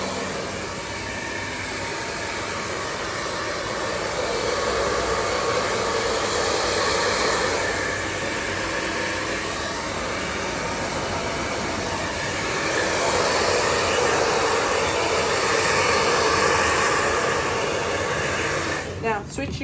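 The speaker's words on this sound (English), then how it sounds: "Switch your human dryer on. You would just dry your coat." A human hair dryer blows steadily on a dog's coat during grooming, a loud continuous whooshing hiss that holds for nearly twenty seconds before cutting off abruptly at the end.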